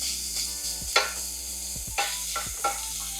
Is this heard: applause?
no